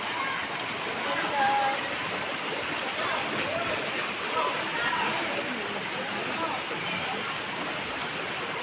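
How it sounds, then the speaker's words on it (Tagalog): Water of the Lagnas River in Dolores, Quezon rushes steadily with a broad, constant hiss, while faint voices of people swimming and playing carry in the background. "Yan po yung ating paligid,"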